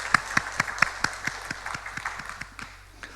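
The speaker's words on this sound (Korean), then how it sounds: "박수하겠습니다" A church congregation at an early-morning prayer service claps in a brief, sparse round, a dozen or so distinct hand claps in a loose rhythm that thins out and fades within a few seconds.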